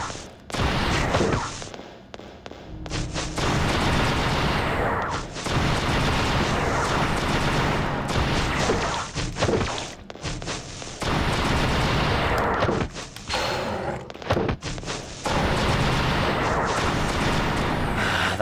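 Gunfire in the Chaos Break video game: nearly continuous loud, dense bursts of shooting over about eighteen seconds, with brief pauses between long volleys, close and aggressive.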